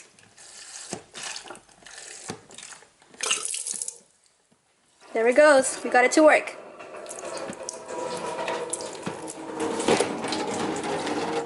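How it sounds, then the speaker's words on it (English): Mechanical clicking of a hand pump, then water gushing from a faucet into a sink in an off-grid tiny house without plumbing, running steadily, with a person speaking briefly over it. "Usually it takes a couple of pumps to get the water coming."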